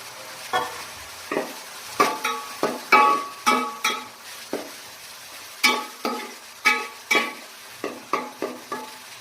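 Onions stirred with crushed ginger and garlic in a frying pan, a quiet background sizzle broken by repeated sharp scrapes and taps of a spoon against the pan in an uneven rhythm.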